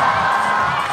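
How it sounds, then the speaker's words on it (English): A crowd at a lead climbing semi-final in Seoul cheers loudly and continuously, with high shouts and whoops over a dense roar of voices. "So the crowd get behind Sorato."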